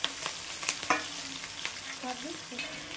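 Green chillies, ginger garlic paste and onions are stirred in a hot pan with cumin, producing close sizzling and frying with several scraping strokes of a spoon, with no talking.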